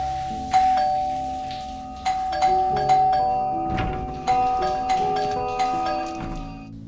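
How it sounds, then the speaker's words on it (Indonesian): A doorbell chimes again and again in bright, ringing strikes that each fade slowly, roughly eight rings spread irregularly over several seconds, close and clear with no voices. "Lalu tiba-tiba terdengar bel yang terus-menerus berbunyi."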